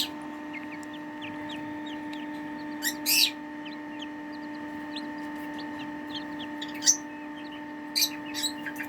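Tiny Serama and Silkie chicks a few days old give faint, scattered high peeps in a brooder, with a few brief louder chirps over a constant electrical hum.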